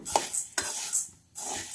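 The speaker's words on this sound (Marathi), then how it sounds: "कढईमध्ये हे धने आपल्याला हलकेसे भाजून घ्यायचे आहेत" Coriander seeds dry-roasting in a kadhai, heard as a few bright scraping and metallic clinks of a spoon against the pan with a light dry rattle between, close and fairly quiet, no talk.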